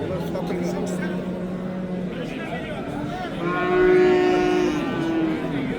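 Cattle lowing at a busy livestock bazaar in Urgut, Samarkand, with a long, loud moo rising mid-clip over a steady background of market chatter and a lower moo early on.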